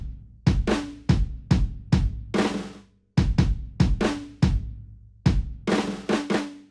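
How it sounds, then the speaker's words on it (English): A live drum pattern inside a beat hits hard with punchy kick and snare strikes in a steady groove, each hit followed by a quick decay, loud, close and with no voices over it. "This is what the live drums are going to sound like."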